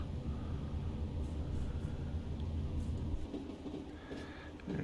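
A Class 97 locomotive crossing a viaduct on the Buxton to Manchester Piccadilly line in Train Simulator Classic: a steady, low rolling rumble of wheels on rails with faint intermittent clicks and rattles.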